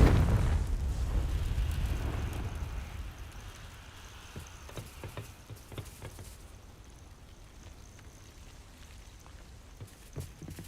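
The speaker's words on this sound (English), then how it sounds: "Confringo." A Confringo fire spell explodes in Hogwarts Legacy, a loud burst of crackling blast at the start that decays over about three seconds into scattered pops and faint debris-like ticks.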